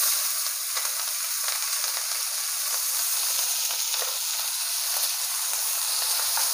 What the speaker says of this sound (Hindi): देखिए सब्जी को भुनने देंगे